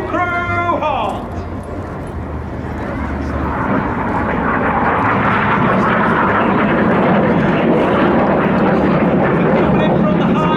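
Red Arrows-style aerobatic jets fly the Synchro Heart display with smoke at the RIAT airshow, a distant jet roar that builds into a loud sustained rush, with a commentator's voice briefly at the start.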